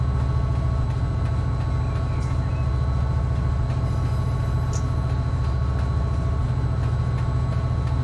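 A freight train hauling empty molten sulfur cars in the Run 8 Train Simulator game rumbles steadily with a heavy, continuous low engine drone and rhythmic rail clatter throughout.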